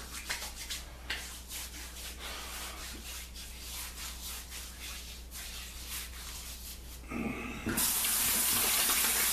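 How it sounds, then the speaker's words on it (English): Bloom water splashed onto a face at a bathroom sink during a wet shave: soft rubbing and dripping, then a tap runs loudly near the end. "Let's take some of this bloom water here and apply it to my face."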